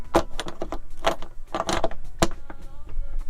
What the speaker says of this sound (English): So the walls then just clip in to the door frame here.